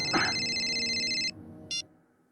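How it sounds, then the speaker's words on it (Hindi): A phone rings with a bright electronic ringtone in a horror drama scene set in an old, dirty, unlit house in a jungle. One steady ringing burst lasts about a second, then a short second burst follows before it stops. "फोन को भी इसी टाइम बजना।"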